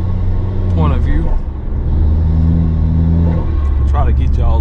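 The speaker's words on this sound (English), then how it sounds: "so you can hear my blow off valve, my intake, and my exhaust on my RDX turbo 2012" A 2012 Acura RDX turbo builds revs under acceleration with a steady, loud engine and exhaust drone, rising tonal intake whooshes, and brief hissy releases like a blow-off valve, heard from inside the car.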